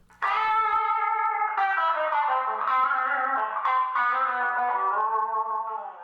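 An electric guitar through a newly built Mojotone kit tube amp and speaker, playing a sustained, slightly gritty melodic line of ringing notes, moderately loud with no talking.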